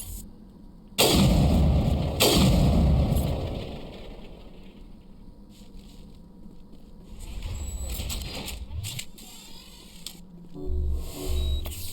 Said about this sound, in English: 3 shots overheats the sniper rifle.